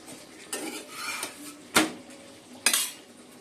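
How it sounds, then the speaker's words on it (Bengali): Chicken kosha cooks in a home kitchen: metal utensils clink and scrape against pots, with a few sharp clanks standing out over a faint sizzle. "এখন চিকেন কষানো হচ্ছে।"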